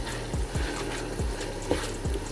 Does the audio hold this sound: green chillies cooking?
yes